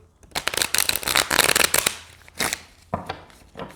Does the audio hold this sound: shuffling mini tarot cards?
yes